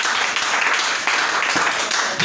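Congregation at a French-language church service clapping and cheering steadily, a dense, continuous wash of applause for a couple of seconds.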